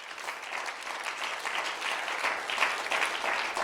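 Congregation applauding during a church service, dense sustained clapping from many hands, steady and fairly loud throughout with no voices over it.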